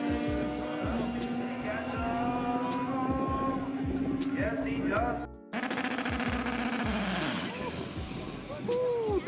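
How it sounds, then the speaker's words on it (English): Loud car engines at a drag racing event, one revving and spooling with a turbo whine over a steady roar, with a brief cut mid-way; people talk over the din. "Ooh, that turbo sound though."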